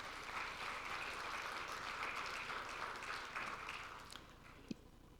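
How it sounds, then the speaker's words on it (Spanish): Steady applause from an audience at a medical conference on acute infections in a Mexico City hospital setting, a dense even clatter of many hands lasting several seconds before thinning out. "Un aplauso para ella, por favor."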